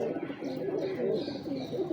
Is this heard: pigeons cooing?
yes